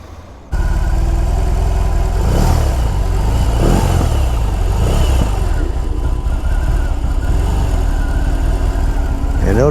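A BMW motorcycle with a Boxer engine starts up after a brief quiet moment, then runs loud and close at a steady throbbing idle with a couple of blips of revving early on.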